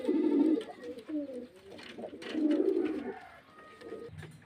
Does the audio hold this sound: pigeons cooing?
yes